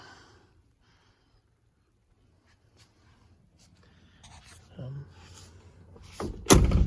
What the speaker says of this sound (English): Doors closed great.